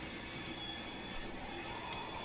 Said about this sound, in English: Very quick acceleration there by a non-electric train.